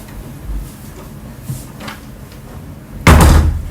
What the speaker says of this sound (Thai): ปิดประตูให้สนิท